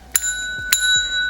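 A bright notification bell sound effect rings twice, about half a second apart, each strike a crisp metallic ding with a ringing tail, loud and close with nothing else behind it.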